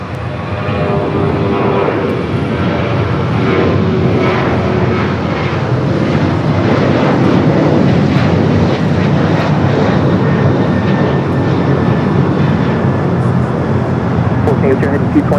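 A Boeing 737-800 airliner rolls down runway 25 right at LAX, its jet engines giving a loud, sustained roar that stays steady throughout, with a faint voice underneath.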